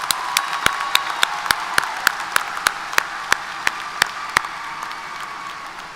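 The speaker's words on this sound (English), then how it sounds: "Let's give her another brilliant round of applause." Distinct, regularly spaced claps from an audience at a university commencement ceremony ring out over a steady background hum, evenly paced and fairly close, stopping before the end.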